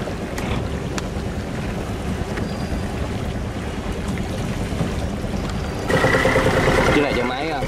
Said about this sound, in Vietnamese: Ghe lưới nha các bạn.